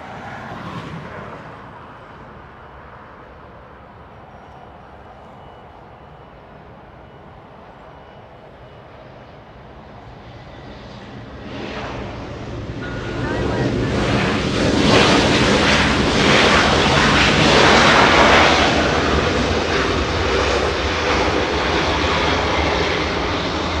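Air Force One, a large jet, comes in to land at LAX, its engine roar growing from a distant rumble into a loud, broad, sustained rush with wind buffeting the microphone, and no voices.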